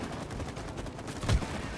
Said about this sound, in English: let's go ahead and shoot these bees